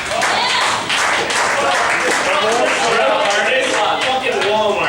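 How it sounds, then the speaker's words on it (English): A live audience claps loudly and continuously, with excited voices and cheering mixed through the applause from start to finish. "let's a round of applause for Central Florida office supply"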